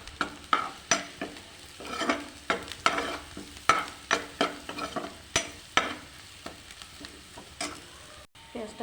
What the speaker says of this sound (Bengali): পেঁয়াজটা ভাজা হয়ে গেছে, তুলে নেব।